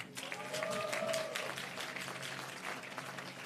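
Audience at a pharmacy white coat ceremony breaks into brief scattered applause, a soft patter of claps heard from across a hall, with a person speaking over it.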